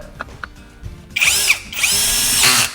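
A Masaru electric drill drives a screw tight on a chainsaw. After a quiet start, it gives two loud, close whining bursts, a short one and then a longer sustained run.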